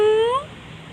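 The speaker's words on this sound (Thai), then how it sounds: "แม่เจอแมวเมียว" A cat meows once, a clear, close, rising-then-falling cry that fades into quiet room tone.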